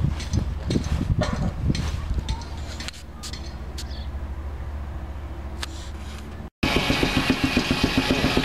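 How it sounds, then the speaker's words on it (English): A Sawyer Massey steam engine drives a sawmill outdoors at a steam show, with steady rhythmic mechanical chugging, wood being sawn, and intermittent knocks, a brief dropout, then louder machinery; voices may be faintly present. "Got a Sawyer Massey steam engine on the sawmill here."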